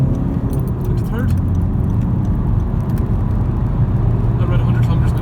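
A Honda Civic 1.6 DTEC diesel engine pulls steadily under acceleration, a continuous low drone heard from inside the car with constant road and cabin noise, someone talking over it throughout.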